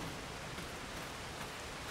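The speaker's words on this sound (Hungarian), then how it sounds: "Hanghatások nagyon jók, ahogy kopog az eső." Steady rain in Farming Simulator 25 patters densely and evenly throughout, a soft continuous hiss of drops with no voices.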